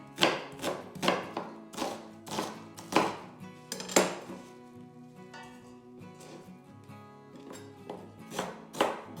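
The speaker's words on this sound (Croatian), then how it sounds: "Luk isto ne morate sitno skroz rezati." A knife chops an onion on a cutting board. It makes a steady series of crisp, close thunks that sometimes come in quick pairs, with a short softer pause in the middle.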